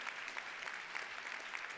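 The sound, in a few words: audience applause for the speaker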